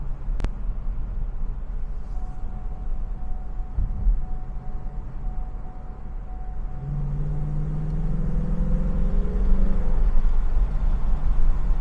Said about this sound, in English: nothing like naturally aspirated V8